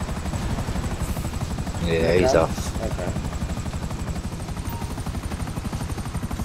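Helicopter in the video game GTA 5 Online, its steady rotor drone running under the whole stretch, briefly louder near the middle, while people talk over it.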